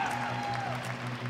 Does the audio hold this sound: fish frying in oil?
no